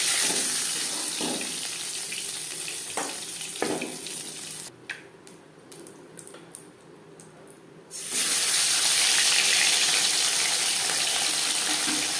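Live katla fish rinsed under running water: a steady broadband splashing rush that thins for a few seconds to sparse spattering hits and drips, then swells back to a full, loud, close stream.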